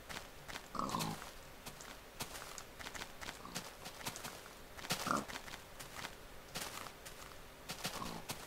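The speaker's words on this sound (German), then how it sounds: "Aber das sind nur Schweine hier." Pigs grunt faintly in the Minecraft video game, with a couple of short snorting calls over a quiet, busy game background.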